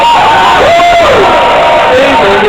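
A banquet crowd cheers and whoops loudly and close by, with raised voices and a shout rising over a dense wall of noise throughout.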